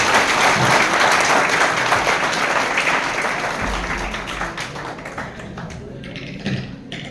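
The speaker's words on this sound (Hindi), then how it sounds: "उसके लिए 2 जोरदार ताली आप सबको" Loud, sustained applause from a large crowd at a Constitution Day celebration, dense clapping that gradually thins and softens toward the end.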